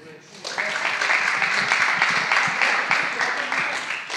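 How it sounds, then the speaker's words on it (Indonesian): Youth worship service congregation applauding in a church: a sustained burst of many hands clapping, starting after a brief pause and continuing steadily with voices mixed in. "Tepuk tangan untuk Jotam."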